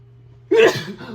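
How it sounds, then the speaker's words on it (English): A single sudden sneeze bursts out close up after a moment of near silence, followed by a short breathy trailing sound. "I'm about to sneeze."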